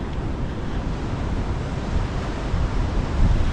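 Ocean surf rolls onto the beach at Urunga, New South Wales, a continuous rushing wash of waves mixed with heavy wind buffeting the microphone, loud and unbroken throughout.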